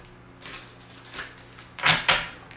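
Tarot cards shuffled by hand at close range: a few soft papery riffles, then two sharper, louder bursts of cards sliding together near the end, with no talking.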